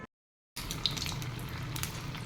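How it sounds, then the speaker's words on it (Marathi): Okra fritters (bhendi bhaji) frying in hot oil: a steady, dense sizzle and crackle that begins abruptly after a brief silence and carries on evenly at close range. "तेल तापलेलं आहे तर याच्यामध्ये मी आता एक एक भजी सोडत आहे"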